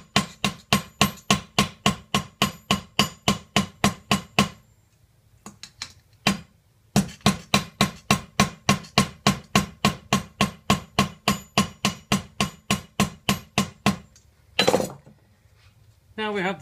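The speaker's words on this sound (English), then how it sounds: "as the joint goes there I'll use a hammer to squash the two sections together." Steady run of sharp metallic hammer blows squashing the joint of a Guernsey milk can on a grooved steel tool, about three strikes a second in two long bursts separated by a short pause, close and loud.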